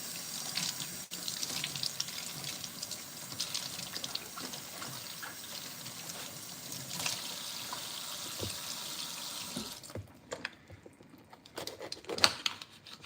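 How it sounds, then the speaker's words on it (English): Tap water runs steadily over red and orange vegetables being rinsed in a kitchen sink, a close, even hiss with light handling sounds, stopping near the end. "We're going to rinse both of these off."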